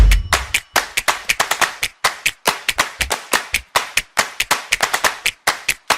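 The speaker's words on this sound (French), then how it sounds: "une autre musique de claquement de doigts qui était utilisée cette fois-ci par Fast Good Cuisine" Background music built on finger snaps, used in cooking videos: crisp, sharp snaps and claps land in a quick, uneven rhythm, loud and close, with short gaps between bursts.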